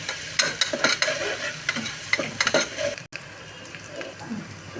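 Onions, curry leaves and turmeric frying in oil for veg kurma, a loud crackling sizzle with spatula scrapes and stirring, dropping briefly and settling into a quieter simmering fry.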